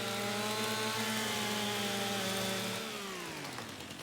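Chainsaw in Farming Simulator 25 running at a steady high idle with a strong buzzing drone, then its pitch slides down as the engine winds down near the end; no talk.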